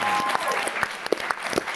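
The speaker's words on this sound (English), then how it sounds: "Nell Hudson deserves a round of applause." Audience at a PaleyFest New York panel for the Outlander 10th anniversary breaking into applause, a dense burst of clapping with some speech over it.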